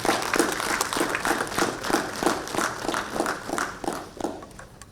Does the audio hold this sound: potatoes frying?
no